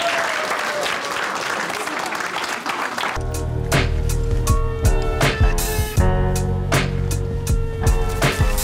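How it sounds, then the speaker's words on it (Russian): Wedding guests applaud the newlyweds as they are led to their seats of honour, first as a dense, crowd-wide wash of clapping and then as closer, sharper claps over a steady low hum. "я предлагаю аплодисментами проводить наших молодоженов на свои почетные места"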